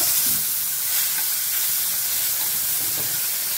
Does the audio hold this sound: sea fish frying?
yes